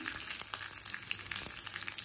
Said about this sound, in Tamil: இப்போ தாளிச்சிடலாங்க